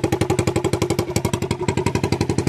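Honda TRX90 ATV engine running with its muffler removed, a loud, close, rapid and even popping putter of single-cylinder exhaust pulses at a steady idle.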